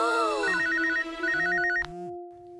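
A cartoon telephone rings with a warbling electronic trill in two bursts, with a sustained tone and springy boing-like cartoon effects underneath, then a sudden cutoff into quiet.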